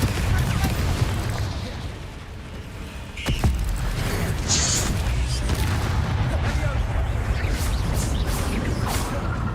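Confringo and Bombarda spell blasts from Hogwarts Legacy, a dense run of booming, crackling impacts layered over continuous game noise, with one sharper burst standing out partway through.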